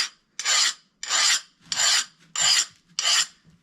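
Metal file skating across a heat-treated, hardened bushcraft knife blade, six evenly spaced harsh rasping strokes up close, each about half a second long, separated by brief silences.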